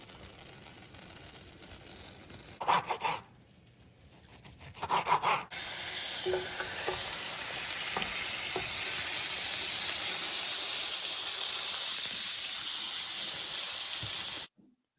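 Jam dessert sandwich cooking in a hot pan, a loud steady crackling sizzle that starts after a few brief bursts and runs continuously for several seconds before cutting off.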